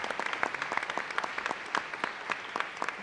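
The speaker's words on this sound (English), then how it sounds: "so just a big round of applause for those guys" Audience applause at a board of education meeting: scattered, moderately sized clapping with distinct individual claps spread across the room, steady for about three seconds with no talking.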